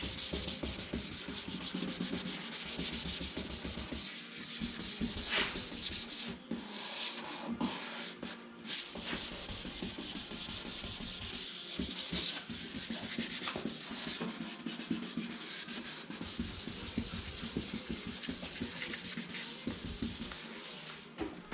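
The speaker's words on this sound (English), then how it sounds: "Wet sanding with 600." Continuous wet sanding by hand with 600-grit sandpaper and water on a car bumper, a steady gritty rubbing and scraping with short pauses in the strokes, close by and fairly quiet.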